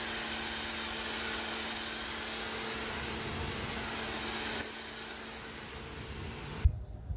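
A DGIVOVO pressure washer fitted with its green nozzle sprays steadily in a loud, continuous broadband hiss, the tone shifting as the nozzle is moved closer to the surface before cutting off abruptly near the end.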